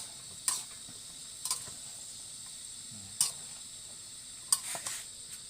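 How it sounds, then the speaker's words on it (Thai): Cucumber being stir-fried in a pan for sweet-and-sour chicken, a faint steady sizzle broken by four sharp spatula clicks against the metal, spaced about a second apart. "แล้วก็จะพัดให้แตงมันสุกก่อนนะครับ"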